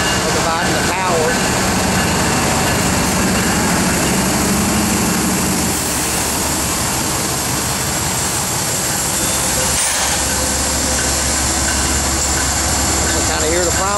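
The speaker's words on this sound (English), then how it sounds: "I kind of hear the prime mover a little bit" Diesel prime movers of a pair of CSX Tier 4 locomotives rumble steadily, a loud, continuous engine drone with a broad hiss, while a voice speaks over it.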